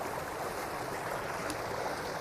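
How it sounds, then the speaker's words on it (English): A woodland brook flowing through conservation land toward the Charles River, a steady broad wash of running water heard close and continuous, with no voices. "here we are by the brook, which flows through all of this land and heads out eventually to the Charles River."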